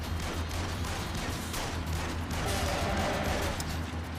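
Steady, dense gunfire from the video game Yakuza Kiwami fills the whole stretch, a continuous clatter of shots with no clear gaps, at moderate loudness.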